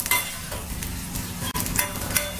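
Ginger frying in oil in a steel pan, with a steady hiss and sizzle and occasional light scrapes and clinks of a stirring utensil against the metal.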